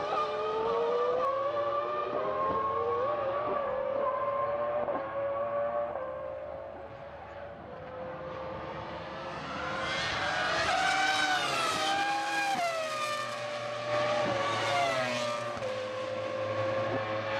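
Formula One cars of the 2000 San Marino Grand Prix scream past one after another, high-pitched engines rising and falling as they pass, loud and continuous with overlapping revs.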